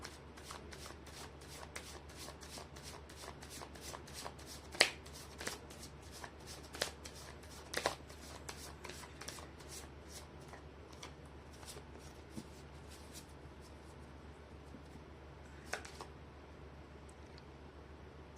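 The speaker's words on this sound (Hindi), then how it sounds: "कर लेती हूँ कार्ड की शफलिंग।" Tarot cards shuffled by hand for a reading, a steady run of soft riffling flicks and taps lasting many seconds with a few sharper snaps, close and fairly quiet.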